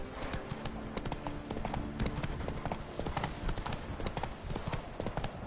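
Galloping horse hooves in The Witcher 3 drum in a fast, steady clip-clop rhythm throughout, loud and close, with a rider's urging voice occasionally over the hoofbeats.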